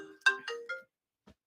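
A telephone ringtone plays as a short melodic sequence of bright electronic tones, fairly faint and alone, followed by a brief quiet tick.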